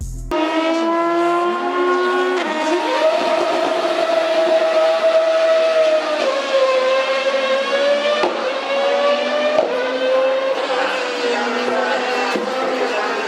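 A Honda HSV-010 GT race car's engine screams loudly and continuously at high revs, rising and dipping through gear changes with a sharp, high-pitched racing wail.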